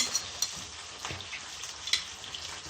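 Food sizzling steadily in a frying pan while a pasta dish with mayonnaise cooks, with a continuous crackle, occasional sharper spits and faint stirring clatter, no voices.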